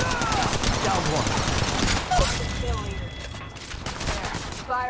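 Rapid automatic gunfire from the mobile battle royale game Apex Legends Mobile, sustained loud bursts with brief gaps and shell-like pings, close and dense throughout.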